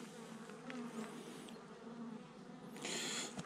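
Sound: honeybees buzzing around an open hive of a swarm

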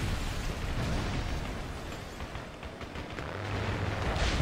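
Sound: bombs released and exploding in Ace Combat Assault Horizon video game

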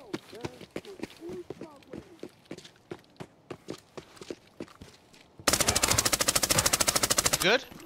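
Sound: gunfire in video game Arena Breakout Infinite

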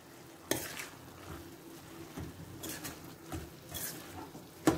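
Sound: stirring radish leaf and besan sabji in pan

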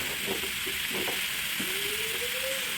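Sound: tomatoes added to a frying pan, sizzling

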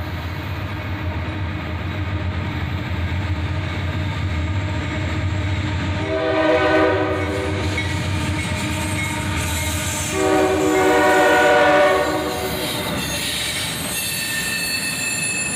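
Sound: autorack freight train led by two AC44CW locomotives passing

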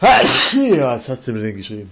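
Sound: sneeze

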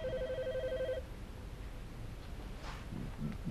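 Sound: telephone ringing

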